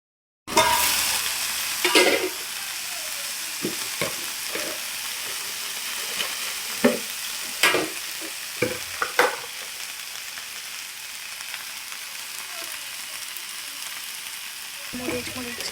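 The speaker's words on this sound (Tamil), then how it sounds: "முருங்கை நல்லா சுண்டி வர அளவுக்கு அதை மூடி வச்சு வதக்கி விட்டுக்கோங்க" Drumstick leaves sauté in a covered pan with a steady frying sizzle. Occasional light clinks and stirring knocks rise above it, and there is no talk.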